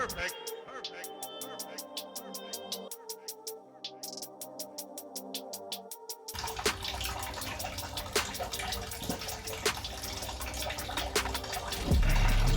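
Coolant drains from the drain tap of a BMW 735i (E65, N62 V8) and splashes steadily into a container, a continuous trickling pour with metallic clinks and rattles nearby.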